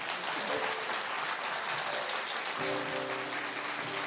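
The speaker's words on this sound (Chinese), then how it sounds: "掌声欢迎" Audience applause welcoming speakers on stage at a live science debate, a steady broadband wash of clapping across the whole moment, with a faint voice surfacing partway through.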